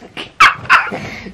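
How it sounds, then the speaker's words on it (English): A puppy gives several short, high yips and barks in quick succession, close and fairly loud, with small whimpering sounds between them. "Who's your puppy?"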